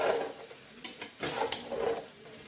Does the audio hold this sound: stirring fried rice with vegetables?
yes